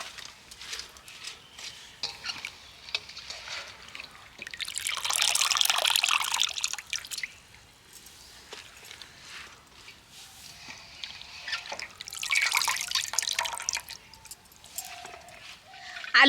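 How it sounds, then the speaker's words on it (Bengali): Water trickles and drains from washed potato slices set on a perforated plate, coming in two louder splashy bursts between quieter dripping. "এবার আমি জল থেকে ছেঁকে তুলে নেব, আর একটা ছিদ্রযুক্ত থালা নিয়েছি, ওর ওপরে দিয়ে দেব যাতে জলটা ঝরে যায়।"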